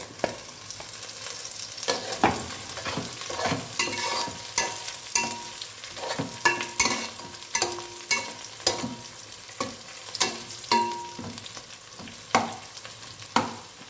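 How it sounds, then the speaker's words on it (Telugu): Cashews and other ingredients for mint pulao fry in a pan with a steady close sizzle, broken by frequent scraping clinks of stirring, with no talking. "అంటే ఇవన్నీ వేగేటప్పుడు మళ్ళీ ఇంకా బ్రౌన్గా వచ్చాయి అన్నమాట."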